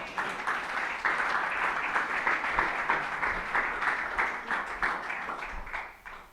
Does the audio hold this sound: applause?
yes